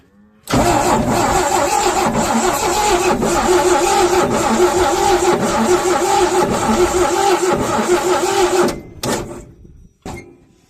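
A 1969 Chevrolet C10 pickup that had sat for years, engine cranking with the choke on but not catching: a loud, continuous rhythmic starter churn for about eight seconds, then a stop and a couple of brief final cranks.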